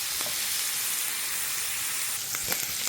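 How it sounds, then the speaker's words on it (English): Meat browns in a hot pan, giving a steady close sizzle and hiss with a few faint stirring scrapes and no talking. "I'm going to finish browning up this meat"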